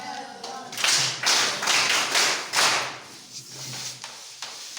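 A group claps together in a burst of quick, loud handclaps that fades into scattered, softer claps.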